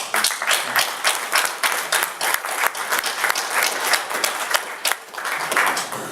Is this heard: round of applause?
yes